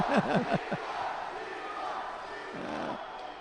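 Crowd noise at a judo Grand Slam tournament in Cancun, with a few rising shouts and whoops at the start settling into a steady, moderately loud murmur of cheering.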